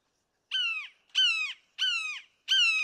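Red-shouldered hawk calls in a suburban yard setting, four loud, clear, descending screaming notes in a steady rhythm, each about half a second, nearby and alone with no talk.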